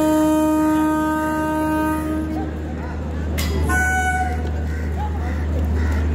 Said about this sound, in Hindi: देखो गाय जा रही है, अब ट्रेन आ रही है पीछे से।